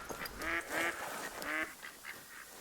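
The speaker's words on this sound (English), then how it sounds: "Sounds like we spooked some ducks." Ducks quacking in the Hunter: Call of the Wild hunting game, several loud, nasal calls in quick irregular bursts, close by, fading into softer scattered quacks over faint ambient background.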